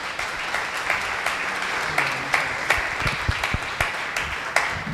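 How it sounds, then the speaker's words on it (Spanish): An audience at a congress on Mexican political-electoral reform applauds in a hall, a steady mass of clapping with a few sharper individual claps standing out near the front. "Un fuerte aplauso, por favor."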